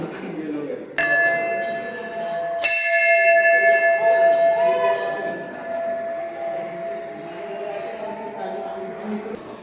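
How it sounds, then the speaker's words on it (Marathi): Loud ringing temple bell strikes, two sharp hits whose metallic tones sustain and slowly decay, over a steady rumble of crowd noise at the Anganewadi fair; no clear drumming stands out. "हे देवीची पालखी असते तेव्हा हे ढोल आणि घंटा आणि तिचं वाजप आहे"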